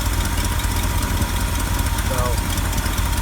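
A Ford 390 V8 engine runs steadily at idle, a continuous low rumble with a faint rhythmic knock, loud and close throughout.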